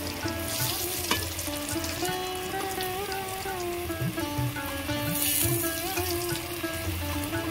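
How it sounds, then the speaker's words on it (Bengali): Radish spring pakora batter sizzles and crackles steadily in hot oil, a close, continuous frying hiss with occasional pops and faint clinks. "তেল গরম হয়ে গেছে, এইভাবে আমি কড়ার মধ্যে দিয়ে দেবো।"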